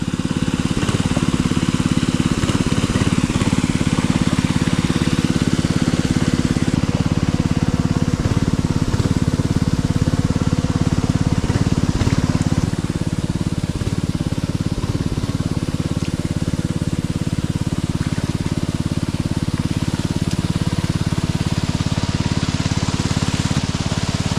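A small engine drones steadily and loudly throughout, a constant low rumble with slight rhythmic variation and no talking.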